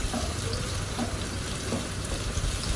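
Peanuts and chopped potatoes fry in hot oil for kanda poha, giving a steady, even sizzle that holds at the same level throughout, with no voice over it.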